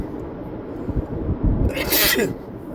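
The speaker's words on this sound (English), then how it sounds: "I sneeze because what I just said is true" One sneeze cuts through as a sharp, breathy burst near the end, close to the microphone and following a muffled inhale amid low room noise during a talk.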